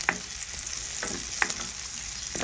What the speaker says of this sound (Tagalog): magigisa ko muna yung sibuyas sa bawang